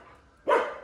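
A single sharp bark from a dog, close and loud, cutting in abruptly after a quiet moment and fading quickly.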